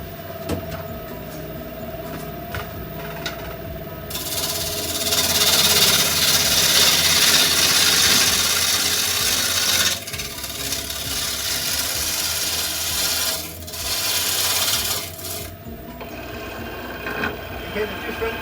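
Wood lathe turning a wooden bowl, a continuous mechanical whir and hiss of the spinning blank with rougher cutting noise swelling and easing as the tool works, steady and fairly close.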